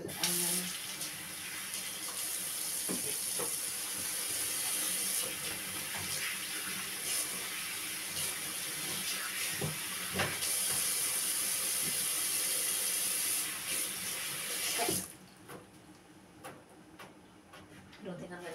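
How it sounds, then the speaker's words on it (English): A running kitchen tap pours steadily as hands are washed beneath it, a close, continuous hiss with small splashes and taps, cutting off abruptly near the end. "let me wash my hands"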